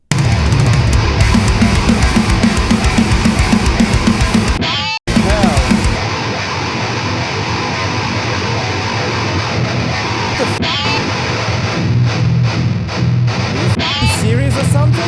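Heavily distorted modern metal guitar tone from an AI-trained Neural Amp Modeler capture, dense and loud with chugging palm-muted riffing, a brief cut near five seconds, then sustained driving playing to the end.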